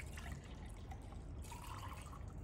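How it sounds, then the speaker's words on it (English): Water poured from a jug, a soft steady trickle and splash running on alone, fairly quiet and close. "So excuse me while I pour from this jug."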